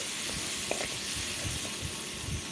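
Masala of onion, ginger, chili paste and turmeric frying in oil for a Bengali fish dish, a soft steady sizzle and hiss with small crackles and faint stirring taps, close and quiet, no talk.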